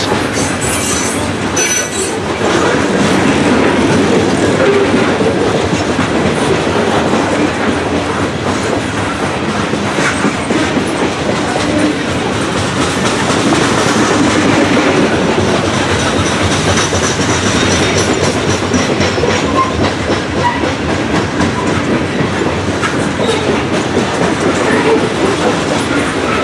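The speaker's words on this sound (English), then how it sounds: "Well, that was the train I was looking for." A long freight train hauled by diesel locomotives rumbles steadily past in Tidewater, Virginia, wheels clattering and squealing on the rails, loud and continuous with no talk.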